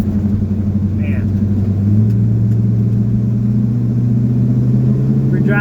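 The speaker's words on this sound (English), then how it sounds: "we're driving a 1986 Chevy K10." A 1986 Chevy K10 truck engine droning steadily while driving, a loud low rumble with road noise that rises slightly partway through as the truck picks up pace.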